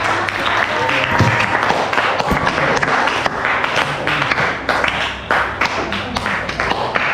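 A room full of people applauds after a group poster presentation, with dense, continuous clapping and scattered sharper claps close by.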